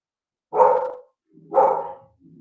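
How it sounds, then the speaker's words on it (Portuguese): A dog barks twice in two separate bursts about a second apart, fairly close and loud, with faint background noise between the barks. "tenho um cachorro latindo aí"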